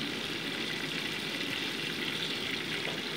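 Bay leaf frying in hot mustard oil, a steady, close hiss of sizzling oil that continues evenly throughout with no talk.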